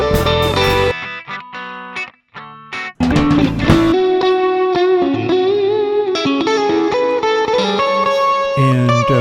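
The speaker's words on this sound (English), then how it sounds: "Let's fool around just a little bit with some guitar sounds specifically." A distorted electric guitar runs through the Airwindows Coils2 saturation plugin, playing a few sharp stabs with short silences and then sustained, ringing overdriven chords and notes. The tone is loud, close and full, with no voices.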